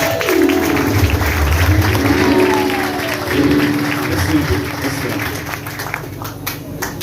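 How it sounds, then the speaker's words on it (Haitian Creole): A graduation ceremony crowd claps loudly and continuously, a dense wash of applause that swells and slowly eases over several seconds. "applaudissez pour moi très fort le leadership"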